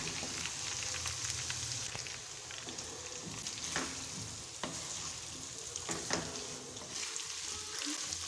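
Half-boiled potatoes fry in a hot pan with spices, a steady crackling sizzle with occasional stirring clatter, close and continuous without speech.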